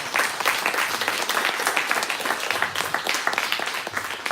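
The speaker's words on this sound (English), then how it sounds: "give me another round of applause, please." A church audience gives a round of applause, many hands clapping in a loud, steady, crackling wash that continues throughout.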